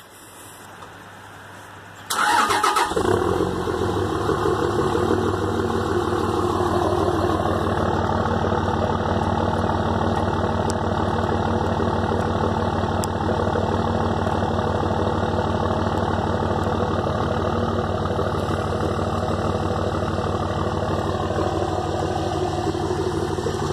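A cold 2004 Cummins 5.9 diesel truck engine, with a 4-inch exhaust pipe to a 6-inch tip, fires up after a quiet moment and settles into a loud, steady, deep rumbling idle that continues unbroken.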